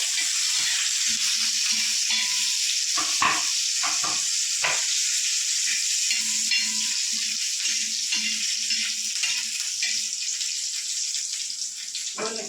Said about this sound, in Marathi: एखाद मिनिटभर मिरचीला आपण छान तरी फ्राय करून घेऊया